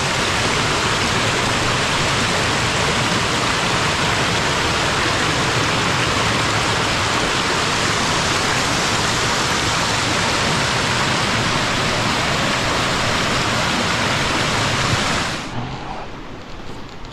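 A mountain stream in the Lagorai near Colbricon rushes in the rain, a loud, dense, continuous wash of water that drops away abruptly near the end.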